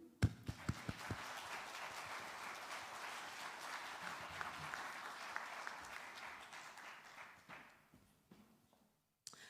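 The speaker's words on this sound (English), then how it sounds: "I'd like to thank the Chinese astronaut, Mr. Chen Dong, with a warm applause" An audience gives warm applause for a Chinese astronaut at a space talk event, a sustained burst of clapping that starts with a few sharp claps, swells and holds, then thins out and stops.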